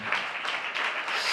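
A church congregation claps their hands together in a dense, steady patter of many hands, fairly close and sustained with no voices over it.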